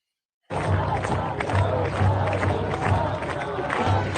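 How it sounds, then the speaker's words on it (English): A large crowd chants in unison at a night protest in Tehran, calling for the king. Dense voices rise and fall in a rhythmic pattern, loud and continuous after a brief silent start. "people are not giving up. Out chanting, "Long live the king.""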